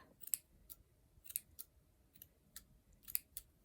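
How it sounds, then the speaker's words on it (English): Quiet, close snips of scissors cutting through wool yarn, about a dozen crisp clicks at an uneven pace with no talking. "hold them two bits of wool, take your scissors"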